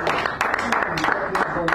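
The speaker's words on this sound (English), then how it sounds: "If you kind of give him a round of applause," A small cafe crowd at a poetry reading claps in a dense, close patter of applause for a poet, with some talk mixed in.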